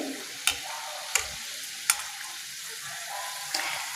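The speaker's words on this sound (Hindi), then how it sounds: "तेल में गुजिया हमारी डूबी होनी चाहिए और हल्का सा साइड से हम इस तरह से करेंगे, तेल से हिलाएंगे" Mawa gujiya submerged in hot oil fry with a steady hiss, while a utensil strikes the pan's side in four sharp, evenly spaced taps.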